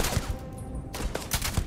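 Gunshots in the video game Starfield, a quick run of sharp, loud shots at irregular intervals, several in under two seconds.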